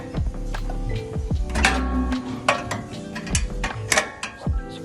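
A 17mm spanner works a nut loose on a coffee machine during a valve reseal repair, giving close metallic clicks, scrapes and clanks in irregular bursts over a low steady hum, with no talk.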